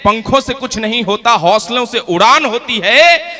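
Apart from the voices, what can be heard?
No distinct noise like a dog, phone or traffic.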